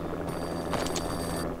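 A telephone in the video game Max Payne rings once with a bright bell-like trill lasting about a second, loud over a low background hum.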